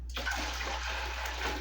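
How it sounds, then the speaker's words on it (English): Warm water poured into a 15-quart stand mixer bowl, a quiet steady splashing rush that runs continuously and fairly faint. "there goes our nice warm water."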